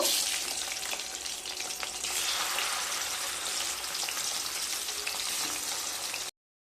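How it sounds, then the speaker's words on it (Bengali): Katla fish pieces fry in hot oil with a close, steady crackling sizzle that carries on evenly before cutting off abruptly, with no voices. "সমস্ত মাছগুলোকে ভেজে নেব।"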